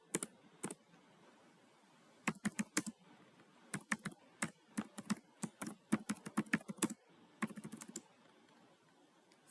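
Close typing of an SQL query on a computer keyboard, quick bursts of crisp key clicks separated by short pauses.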